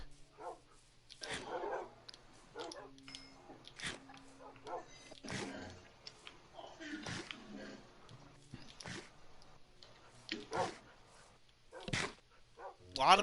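Dogs in Minecraft let out scattered short, sharp barks and whimpers, spaced irregularly over several seconds. People talk quietly in places between them.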